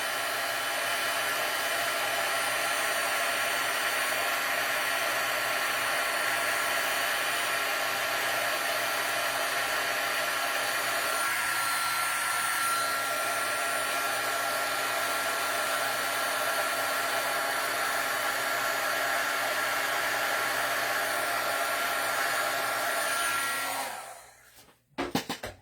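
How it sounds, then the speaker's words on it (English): A handheld heat tool blowing hot air for heat embossing on a card, a steady loud whooshing whine close by, running unbroken for about twenty-four seconds before cutting off with a brief clatter. "I love heat embossing because it's so satisfying to me to watch that turn from like a powdery mess"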